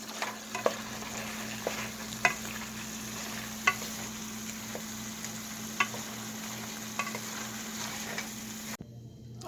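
A Jamaican dish being stirred in a pot, with a spoon scraping in a steady, evenly spaced rhythm over a constant low hum, close and moderately loud with no talking; it stops abruptly near the end.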